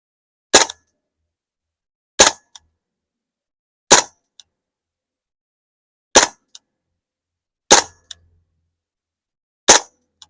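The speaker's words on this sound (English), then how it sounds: "I'm gonna shoot in semi." Hatsan Blitz air rifle firing in semi-automatic mode through a chronograph: six sharp, loud individual shots spaced roughly one and a half seconds apart, each followed by a faint mechanical click, with silence between.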